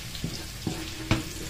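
Garlic and onion sautéing in a pan sizzle steadily, broken by three sharp stirring scrapes and clinks of a utensil against the pan, close up with no talking.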